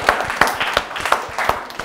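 Audience clapping hands at a women's arts and science college event, heard as a short burst of sharp, irregular claps, fairly close and moderately loud.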